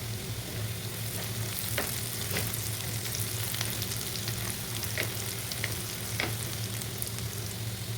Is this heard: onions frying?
yes